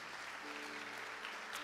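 A church congregation claps together in a steady, diffuse wash of applause, quiet and somewhat distant in a reverberant hall, with a faint sustained tone beneath.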